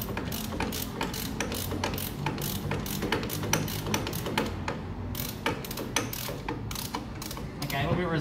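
A ratchet crank on a cold-water pressure washer build clicks rapidly and steadily as it is worked. The close, dense mechanical clatter carries on continuously.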